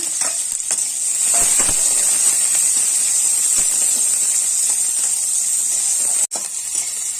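Green chilies go into hot oil in a home kitchen, setting off a loud, steady sizzle and hiss that holds throughout, with a brief clatter near the end.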